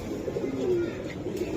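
Pigeons at a Bangladeshi pigeon sale cooing softly, a low, brief murmuring coo over faint background noise.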